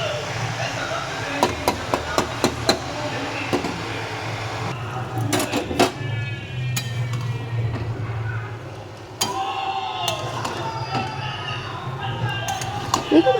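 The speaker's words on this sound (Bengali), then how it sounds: "এবার আস্তে আস্তে ভালো করে লাউটাকে নাড়তে হবে, দেখবে লাউ থেকে জল ছাড়বে আস্তে আস্তে।" A spatula scrapes and taps against a pan as bottle gourd cooks, with a steady run of sharp metallic clicks under ongoing talk and a low background hum.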